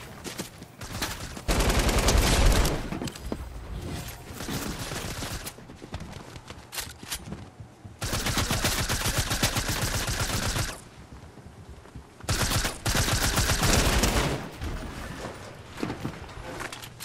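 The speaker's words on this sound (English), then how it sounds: "This light machine gun got me cracked." A light machine gun in Fortnite fires long, rapid automatic bursts, loud and close, separated by short pauses with quieter game sound between them.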